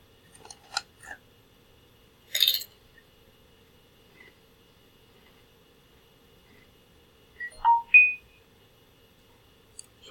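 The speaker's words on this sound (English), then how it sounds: "When your phone goes off when you're trying to record." A phone goes off indoors during a recording, giving scattered short electronic beeps and chirps, including a brief burst and a quick rising-and-falling tone pair, against near silence.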